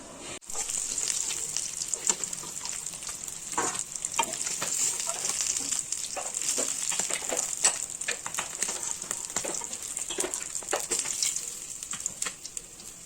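Chopped onion, ginger and garlic sizzle in oil left over from frying fish, a steady close crackle and hiss with stirring scrapes throughout, no voices.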